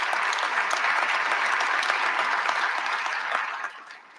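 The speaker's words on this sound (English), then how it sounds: "give it a round of applause" Audience applause at a talk on Texas high school football, a loud, even wash of many hands clapping that holds steady and then drops off abruptly near the end.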